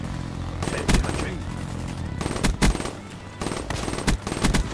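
Bursts of automatic gunfire from a Black Ops 3 match, fired in three clustered volleys with sharp loud cracks over a dense, continuous bed of game noise.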